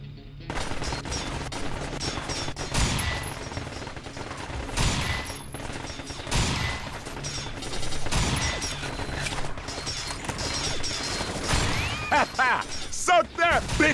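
Rapid gunfire and bursts of shooting from the sci-fi shooter game Binary Domain, with a sniper rifle in use, dense and loud throughout amid other combat noise and game sounds.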